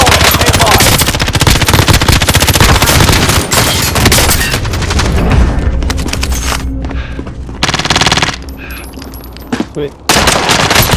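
Video game gunfire rattles in dense, loud automatic bursts nearly nonstop, with heavy booming shots. It thins briefly near the end before resuming, and a voice speaks once amid the shooting.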